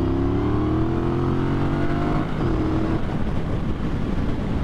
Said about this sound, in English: All right, here's a little 10 to 60 pull,